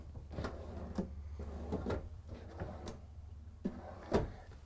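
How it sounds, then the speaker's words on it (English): Drawers sliding shut one after another inside a 2022 Newmar Dutch Star motorhome, soft-close runners giving several quiet, muffled thuds and slides at close range with no talking. "all the drawers inside of this motorhome are going to be soft closing, so you don't have to worry about slamming them"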